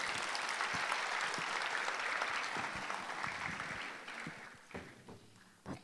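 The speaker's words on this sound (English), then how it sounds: "Let us give Irish another warm round of applause" Audience applause at a junior high school graduation ceremony in Dubai, a sustained wash of many clapping hands that holds steady for several seconds, then thins into scattered claps and fades out near the end.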